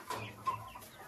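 Chicks in a coop give a few faint, soft clucks and peeps in a short, quiet stretch.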